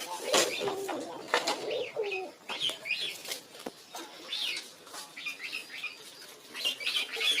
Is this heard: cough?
no